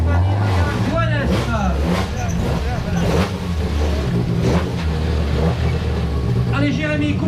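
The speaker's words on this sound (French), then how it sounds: "Allez Jérémy, coupe pas le moteur" A rally car's engine idles and rumbles low at the podium of the 2022 Rallye du Montbrisonnais, close and steady beneath an announcer talking over the crowd.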